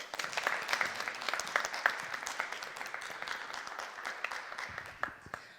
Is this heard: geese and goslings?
no